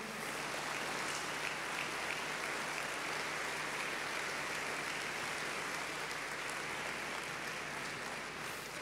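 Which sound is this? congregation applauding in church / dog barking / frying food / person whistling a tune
congregation applauding in church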